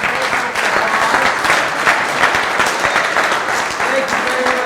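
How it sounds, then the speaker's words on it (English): Banquet audience applauding steadily at a Rotary Club district installation dinner, a dense sustained clapping that fills the room for several seconds, with some voices mixed in beneath. "Give my sisters a applause."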